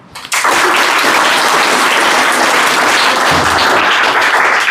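Loud, dense applause erupts suddenly after a brief quiet moment and holds steady, celebrating a student's top class 10 exam result.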